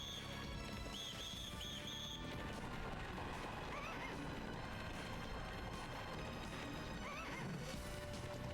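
A horse in the Legend of Dragoon video game whinnies repeatedly over a loud, dense game soundtrack, with crashing impacts and clip-clopping hooves in a continuous, busy mix.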